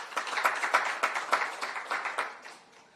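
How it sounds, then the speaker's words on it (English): An audience at a World Water Day panel discussion in Zambia claps in a moderate round of applause, with individual hand claps standing out; it holds steady, then thins and fades out over the last second. "I invite us to again give a round of applause"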